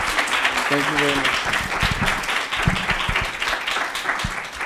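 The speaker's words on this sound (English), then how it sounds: "a big round of applause for her" An audience applauds after a medical lecture, a dense burst of clapping that carries on under a speaker's closing thanks.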